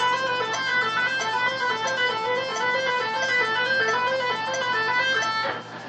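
Quintuplet groups of five notes played evenly against metronome clicks, a steady bright melodic line of rapid even notes on a sustained-tone instrument, close and loud, without talking.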